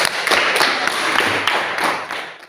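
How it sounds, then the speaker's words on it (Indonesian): Schoolchildren clap together in an Indonesian classroom during a maths lesson on adding and subtracting whole numbers, a dense, steady burst of hand claps lasting a couple of seconds before fading out. "tepuk tangan untuk Oka dulu."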